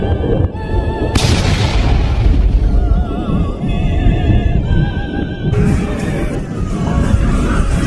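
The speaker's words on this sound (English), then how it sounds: "a great explosion would illuminate everything" A sound-effect explosion bursts out as a loud, booming blast with a sharp onset, its rumble rolling on beneath tonal music and a voice-like layer for several seconds.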